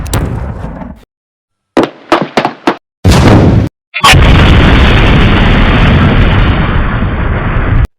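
Cannon fire during a staged siege of Konotop comes as a series of loud, sharp booming bursts separated by silent gaps, followed by a long roaring, sustained blast of noise that fills the scene.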